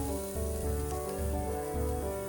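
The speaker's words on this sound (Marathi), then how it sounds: "हे बघा तेल सुटोपर्यंत छान फ्राय करून घेऊ आपण" Gravy fries in oil in a pan over a lowered gas flame, giving a steady, close sizzling hiss with faint pops and no talking.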